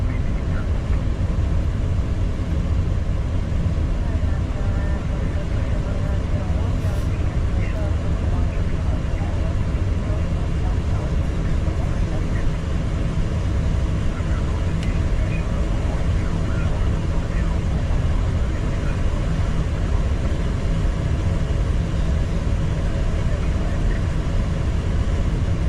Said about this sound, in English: give you guys a really good idea of how original and how real that these airplanes sound